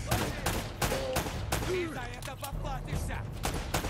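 Bursts of gunfire ring out in Uncharted: Drake's Fortune, with repeated sharp shots and rapid volleys in an ambush firefight, loud and close, while a player talks over the action.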